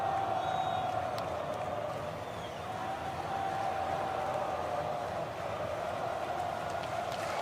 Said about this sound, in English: The crowd is going absolutely crazy.